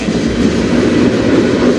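Freight train rolling past on the Strathroy Subdivision, a loud, steady rumble with rhythmic wheel clatter, close by and continuous throughout the short stretch.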